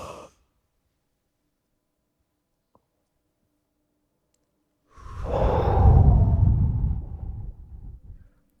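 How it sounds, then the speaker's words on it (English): A single deep, slow breath during a guided breathing exercise, a long breathy exhale that swells and fades over about three seconds, close and loud after near silence. "I'm gonna breathe 2 more times"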